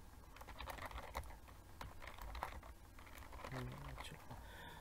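Typing on a computer keyboard while entering text in Microsoft Word, a steady run of fast close key clicks over low background noise, with a brief voice-like murmur near the end.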